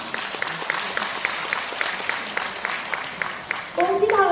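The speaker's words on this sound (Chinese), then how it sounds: "再次把掌声送给三位" An audience at the awards gala closing the 7th Vancouver Chinese Film Festival applauds with steady, dense clapping in a hall, and a voice begins speaking just as the applause ends.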